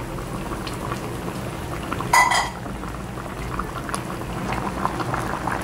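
Tilapia simmering in a coconut milk broth, a steady bubbling boil with a brief clink of a utensil or pot partway through.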